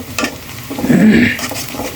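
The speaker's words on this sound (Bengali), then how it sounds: "এখানে যেটা করছি পেঁয়াজটা ভাজতেছি" Onions fry in a pan while being stirred, a loud close sizzle with scraping spoon strokes over two seconds, swelling in the middle, no talking.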